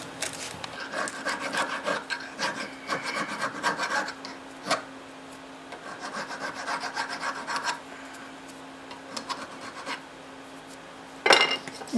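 Chainsaw file rasps on metal in repeated short strokes, rhythmic scraping bursts with brief pauses and a sharper clink near the end, close and fairly quiet.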